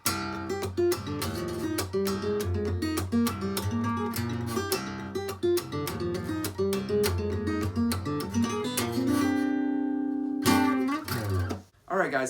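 A song is played at full speed on guitar, with a dense, rhythmic flow of plucked notes and percussive string hits. A chord rings out near the end before it stops.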